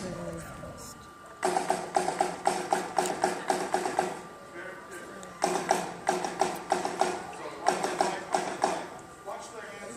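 Étude pattern of two sixteenth notes and an eighth note, played in repeated bursts by a group of young students at a school concert, fairly faint and roomy, with short pauses between phrases.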